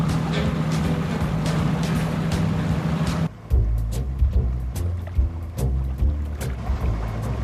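An amphibious car's engine drones steadily while it moves through water, with splashing and sloshing against the hull, continuous and fairly close.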